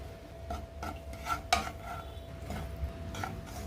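A spoon stirs roasted powder in ghee inside a kadai for halwa, with scattered scrapes and sharp metallic clinks against the pan at an uneven rhythm, close and moderately quiet.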